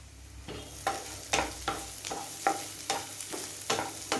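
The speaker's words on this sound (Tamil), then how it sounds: "இப்போ வெங்காயம் நல்லா வதங்கி வரட்டும்" Onions and curry leaves sautéing in oil in a pan for a bitter gourd thokku, a soft sizzle punctuated by regular spatula scrapes about twice a second, close and fairly quiet, no speech.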